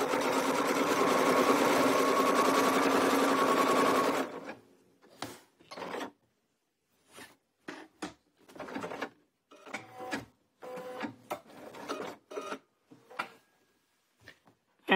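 A domestic sewing machine stitching a ruler-guided quilting line runs in a loud, steady whir for about four seconds, then stops, followed by scattered short clicks and rustles of fabric and ruler handling.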